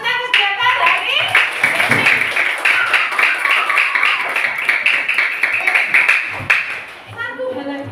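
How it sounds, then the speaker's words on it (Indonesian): A classroom group claps together at the end of a counseling class activity, a dense, sustained burst of applause from many hands, close and loud, fading near the end as children's voices talk. "Beri tepuk tangan untuk kita semua tentang kegiatan hari ini."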